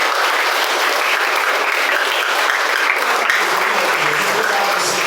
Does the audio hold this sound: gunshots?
no